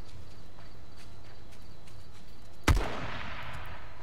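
A single sharp gunshot in the survival game H1Z1, a sudden loud crack with a short echoing tail that breaks through a quiet, steady background, with no one talking.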